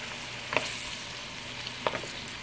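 Chicken karahi fries in oil over medium heat with a steady bubbling hiss, broken by two brief scraping clicks of a spoon against the pan, close and moderately quiet.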